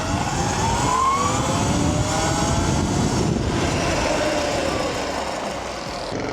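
A 72 volt Sur-Ron electric dirt bike being ridden, a steady whining motor hum with tire and wind noise, fairly loud and easing slightly toward the end.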